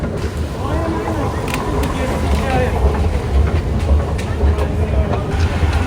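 Inside Sirkeci railway station in Istanbul, an arriving train rumbles steadily with rail clatter beneath a loud, busy crowd, voices mixing into a constant dense din.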